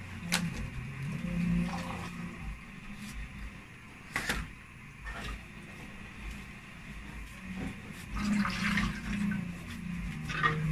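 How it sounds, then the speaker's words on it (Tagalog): Water poured into a pan used for sautéing vegetables for pancit bihon, a steady rushing pour and splash heard close, with clinks of cookware over the background. "maglalagay na tayo ng tubig doon sa pinaggisaan natin ng gulay."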